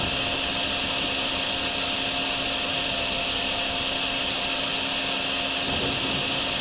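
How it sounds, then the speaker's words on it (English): Vacuuming up floodwater on a flooded farm in the video game Drain Sim: a constant, even whine of a suction machine running steadily throughout with no pauses. "we just kind of vacuum up this stuff here"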